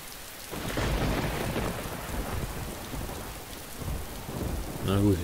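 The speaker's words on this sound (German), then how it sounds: "War es der gute, saure Regen?" Heavy rain patters steadily on surfaces in the DayZ game world while thunder rumbles low beneath it, a continuous stormy wash, with a brief tonal chime near the end.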